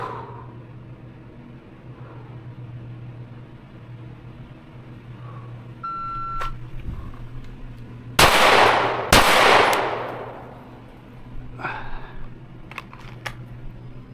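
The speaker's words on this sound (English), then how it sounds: "Draw, kneel, and shoot 2 to the body." A shot timer beeps, then two loud, sharp pistol shots from a Canik Prime ring out about a second apart on an outdoor qualification range, followed by fainter clicks and handling noises.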